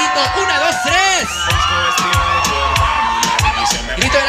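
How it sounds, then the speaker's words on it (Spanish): A crowd of guests shouts and whoops together at a quinceañera party with a batucada band, loud and sustained cheering with high excited yells rising over a busy, continuous background. "Así que quiero escuchar ese grito."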